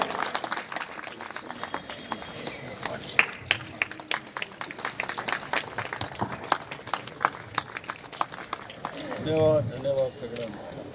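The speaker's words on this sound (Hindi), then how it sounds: "एक बार जोरदार तालियां बजाकर" Scattered claps and crowd bustle greet the BJP state party president at a political gathering in Rewari, Haryana, with bursts of clapping over ongoing voices and movement, swelling briefly near the end.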